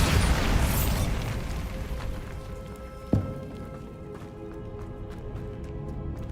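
Bombarda spell explosion in the Hogwarts Legacy video game, a broad roaring blast that decays slowly, followed by a sharp crack midway and lingering debris-like crackle fading out.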